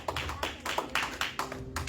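A church congregation applauding, with a quick run of rhythmic claps at a steady beat, moderately loud and without speech.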